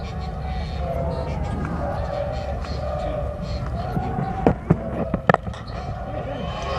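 Crowd noise rises from the stands at a Sri Lanka versus Zimbabwe one-day international cricket match in 2008, a steady dense roar with scattered sharp claps and bangs toward the end, under commentary.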